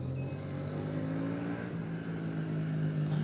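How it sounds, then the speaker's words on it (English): Motorcycle riding through a park while doing wheelies, its engine a steady near drone with slight pitch shifts as it revs, continuous and fairly loud throughout. "It is a motorcycle driving through the park."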